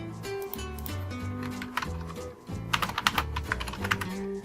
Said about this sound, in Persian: یوزرنیم تایپ میکنیم سیاوش، پسورد تایپ میکنیم روت